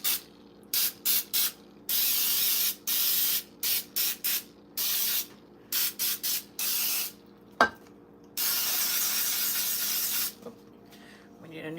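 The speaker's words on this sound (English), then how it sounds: "we're taking Pam baking spray and making sure that we get that in all of our little crevices" Bursts of Pam baking spray hiss into a donut pan, some short and some longer, close up, with a sharp click midway and a brief sputter near the end.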